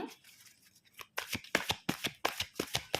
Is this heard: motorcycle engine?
no